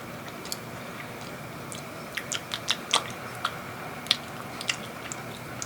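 Chewing of a chocolate protein bar close to the mic: a series of small crunchy, sticky bites spaced irregularly over a quiet background, no talk.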